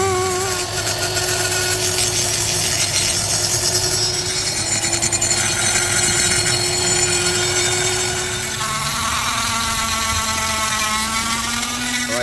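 A power tool grinding and porting the intake and exhaust runners of a Harley-Davidson Screamin Eagle SE 110 cylinder head, a continuous loud whine with shifting pitch, close and steady for the whole stretch.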